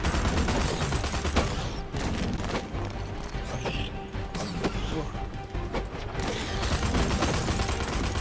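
Rapid, dense gunfire in the Suicide Squad video game, with sustained bursts and sharp impacts layered over a loud, busy mix of game effects from start to finish.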